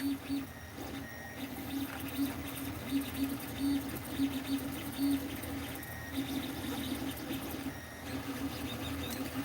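A 3D printer runs steadily through a Benchy print, giving a quiet, continuous mechanical hum with soft stepper-motor whines and periodic tonal chirps as the print head moves, with no voices.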